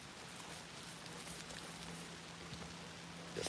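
Steady, faint outdoor rain pattering evenly on surfaces, with a low constant hum beneath and no voices.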